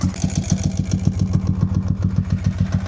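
A motorcycle engine idles steadily at about 1,000 rpm once warmed up, a close, even low-pitched chug with regular pulsing beats throughout and light mechanical clatter on top.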